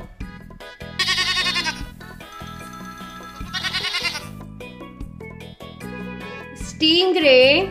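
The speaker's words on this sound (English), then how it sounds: "Goat." A goat bleats in several wavering, nasal calls of rising and falling pitch, loud and close, spaced over a steady background of music.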